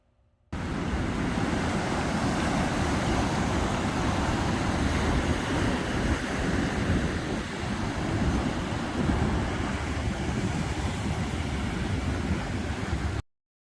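Ocean waves at the beach make a steady, dense roar of surf that holds constant for about thirteen seconds, cutting in and out abruptly with no voices.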